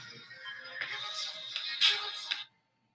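A telephone ringtone plays a bright electronic melody at moderate volume for about two and a half seconds, then cuts off abruptly into silence.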